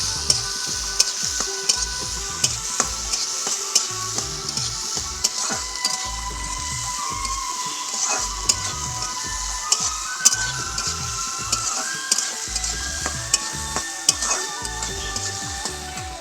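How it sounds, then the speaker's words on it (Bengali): Chopped tomato and onion fry for poha in a pan, giving a continuous close sizzle broken by frequent rhythmic scrapes and taps of a spoon stirring against the metal, with no one talking. "আর এরপরেই টমেটো কুচিটাও এখানে দিয়ে দেব। দিয়ে এটা ভাজতে হবে।"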